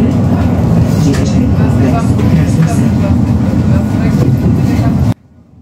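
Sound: tram line 5 running in Sofia

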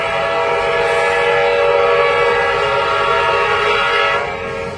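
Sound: short train passing

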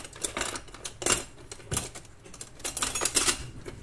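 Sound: small scissors cutting open a Fairy detergent packet

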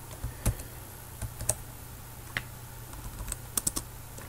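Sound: typing on a computer keyboard

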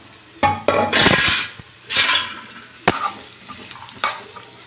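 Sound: mango and ginger pieces frying in oil in a pan

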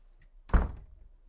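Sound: door closing as a character leaves, from a video game

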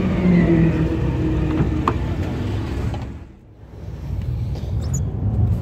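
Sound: Porsche 911 driving a passenger lap

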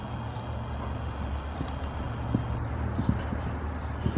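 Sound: horse hooves while being ridden

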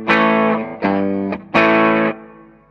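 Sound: electric guitar through amp clean channel

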